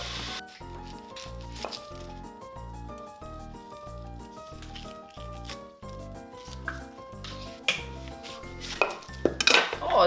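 A spoon stirs tomato soup in a cooking pot, clinking and scraping against the metal in a rough rhythm over a quiet background, with a few louder knocks toward the end.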